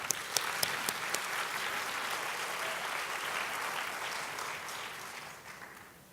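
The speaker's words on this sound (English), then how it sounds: "all our outstanding faculty another round of applause" A crowd applauding steadily at a college faculty meeting, loud at first with a few sharper claps, then gradually fading toward the end.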